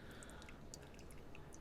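Single-serve pour-over coffee drips through the filter after hot water is poured in, with faint scattered drops tapping quietly and no talking.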